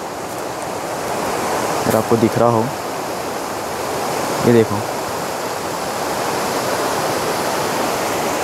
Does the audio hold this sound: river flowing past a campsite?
yes